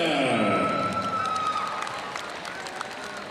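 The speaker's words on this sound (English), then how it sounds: "let's give our sportsmanship recipients a big round of applause" Applause and cheering from a crowd at a high school boys' basketball game for sportsmanship award recipients, a broad wash of clapping that fades over a few seconds, with a voice sweeping through at the start.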